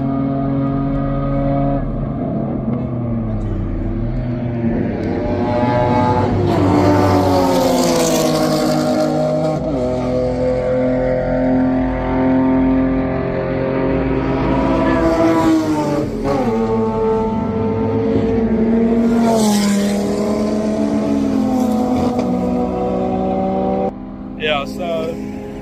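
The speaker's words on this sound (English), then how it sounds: "now the cars are going on another lap here" Race cars lapping Kyalami race track at a motoring festival, loud engines revving and rising in pitch as they pass nearby, one after another, with overlapping drones and brief shifts throughout.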